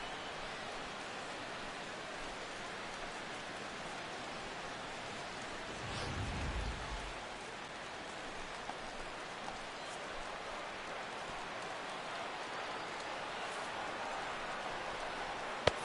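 Steady rain hiss falls on a baseball video game ballpark, broadband and even throughout with a brief low rumble swell near the middle and no voices.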